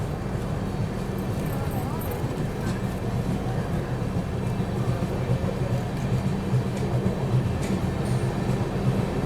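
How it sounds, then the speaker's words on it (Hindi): Passenger train of the 12669 Ganga Kaveri Express pulling out of a station, a steady low rumble of wheels and carriages rolling close by, continuous throughout with faint talk underneath. "अभी निकल चुकी ट्रेन यहाँ से"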